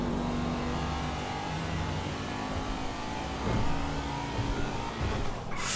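A car engine in GTA V drives at highway speed while overtaking a truck, a steady loud drone that surges briefly as it accelerates, with road noise throughout and no talk.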